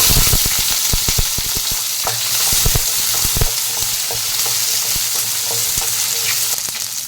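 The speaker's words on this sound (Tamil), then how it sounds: "இது எல்லாமே நல்லா பொரியட்டும்" Small shallots crackle loudly in hot oil with mustard seeds and fenugreek for a bitter gourd theeyal, a dense continuous sizzle broken by sharp popping bursts and stirring scrapes, close and without speech.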